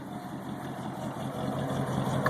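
A 1977 Lincoln Continental V8 idles just after its first start, a steady, fairly loud low rumble that holds constant throughout with no other sounds.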